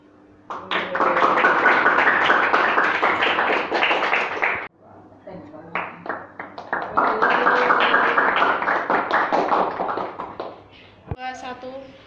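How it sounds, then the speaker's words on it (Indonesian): Classroom applause from students during a group presentation session, two loud bursts of dense hand clapping separated by a short pause, with a few scattered claps and a voice near the end. "Silakan kelompok 2, beri tepuk tangannya dong."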